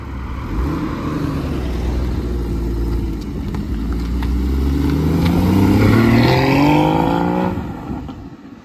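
A Porsche GT4 sports car pulls away at a car-spotting gathering in Gérardmer, its engine loud and close, revving up through rising gears as it drives off.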